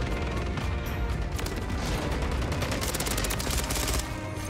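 Sustained rapid automatic fire from the ISO 9mm submachine gun in Modern Warfare 3, loud and dense throughout, with overlapping bursts and distant shots mixed in under the game's ambience.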